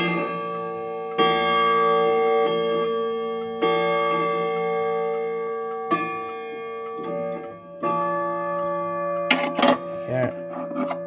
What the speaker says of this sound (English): Also, here's the chimes for the hour.